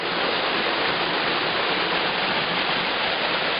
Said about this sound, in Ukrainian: Біля дороги ми знаходимо Рушівський водоспад.